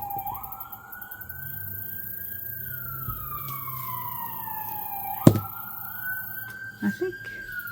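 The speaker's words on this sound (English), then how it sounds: "I hate when an ambulance goes by." A wailing siren rises and falls as an emergency vehicle passes nearby, steady and fairly loud, with a brief sharp knock partway through.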